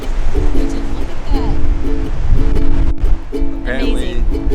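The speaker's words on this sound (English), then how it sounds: "Apparently the waves right now are like some of the biggest they've had in like 15 years." Very large ocean waves, among the biggest in years, pounding a shore along the Pan American Highway, a loud continuous roar with heavy low rumble and wind noise, while people talk over it.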